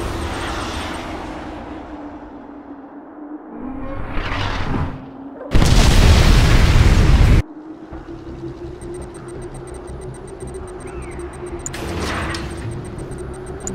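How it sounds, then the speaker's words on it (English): A nuclear missile launch and explosion in Command & Conquer 3 Kane's Wrath: a low rumble swells, then a loud, dense two-second blast roars, followed by lingering drone and a fainter later burst. "Nuclear missile launched."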